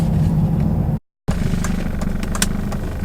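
A Mercedes 230 CE W124 coupé's four-cylinder engine running steadily with a low, even hum, briefly cut by a short gap of silence, then resuming at the same level with faint higher clicks and ticks above.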